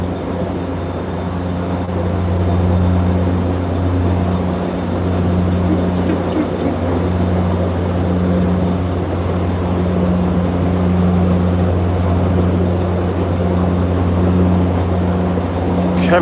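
General Electric diesel locomotive engines on an MBTA commuter run drone steadily and loudly, a deep continuous rumble with a low hum throughout.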